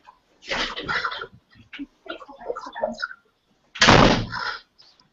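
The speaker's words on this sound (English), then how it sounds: "I'm just going to shut the door." An indoor door at a conference session shut with a firm, broadband thud near the end, after scattered rustling and shuffling from someone moving toward it.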